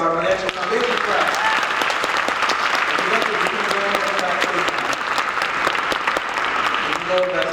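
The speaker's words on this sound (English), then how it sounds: "Another round of applause for our Mariachi Foundation class" Audience applause for a mariachi class at a school concert, loud continuous clapping with crisp individual claps, with voices and some crowd chatter mixed in throughout.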